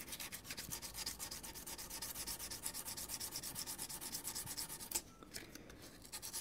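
600 grit sandpaper rubs over a guitar body in quick, even back-and-forth strokes, a close, soft scratchy hiss that pauses briefly near the end before resuming.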